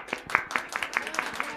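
Hands clap in a quick, even rhythm, about eight claps in under two seconds, close and fairly loud.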